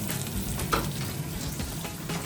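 Garlic sizzles loudly in a hot pan for chilli chicken, a dense continuous frying hiss close by with a few soft stirring knocks.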